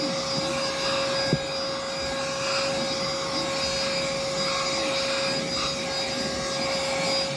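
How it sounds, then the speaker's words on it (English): A corded car vacuum cleaner's steady, droning motor runs continuously at close range with a constant high whine and broadband hiss, briefly bumping once early on. "it's the perfect vacuum cleaner when it comes to cleaning your car"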